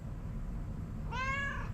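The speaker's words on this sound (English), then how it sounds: "I heard her meowing" A pet cat lets out a single clear, drawn-out meow near the end, close and fairly loud over a steady low background hum indoors.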